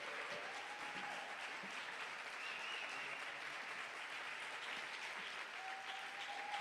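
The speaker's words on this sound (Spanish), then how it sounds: "¡Aplausos!" A crowd at a book presentation gives sustained applause, a continuous wash of many hands clapping at an even level throughout, heard from a little distance.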